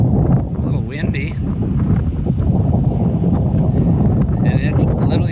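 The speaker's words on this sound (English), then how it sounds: "It's a little windy." Strong wind buffets the microphone in the Badlands, producing a continuous low rumbling roar, with someone talking intermittently over it.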